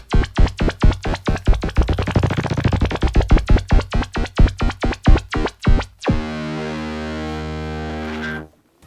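Electric guitar through a Fractal unit, its filter swept by an accelerometer-driven LFO, plays a rapid run of loud, choppy, pulsing notes before settling into one long sustained chord that rings out and cuts off.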